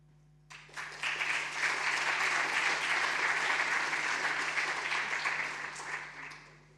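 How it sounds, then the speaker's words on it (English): Sustained applause from a conference room audience after a presentation, starting abruptly, holding steady and full for several seconds, then tapering off, with no talk over it. "You got a big applause from the room."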